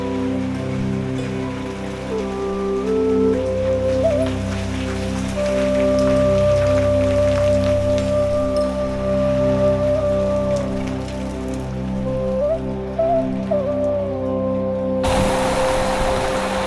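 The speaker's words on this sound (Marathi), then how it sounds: "आम्ही गावी पोचलो आणि कसला मुसळधार पाऊस सुरू झाला बघा" Heavy monsoon rain in a Konkan village pours down in a dense, steady hiss, with a faint humming tone underneath and a brief louder burst at the very end.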